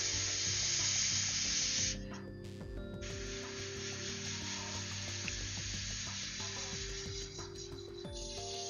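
Airbrush spraying paint onto a miniature's carapace, a steady close hiss that cuts out briefly near two seconds and then resumes for the rest of the stretch, over faint background hum.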